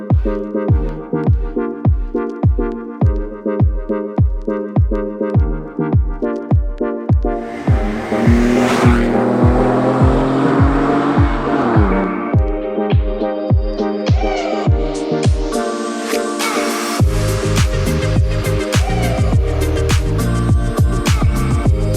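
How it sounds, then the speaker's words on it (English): Car engine revving hard through a stock exhaust versus a backbox delete, a steady rhythm of sharp throttle blips giving way to sustained loud revving and roaring acceleration, close and dominant with no talk. "Don't rev my car off like that, please."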